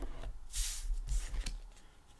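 A few quick papery riffles of tarot cards being shuffled, soft and close, with brief bursts of brushing texture and light taps.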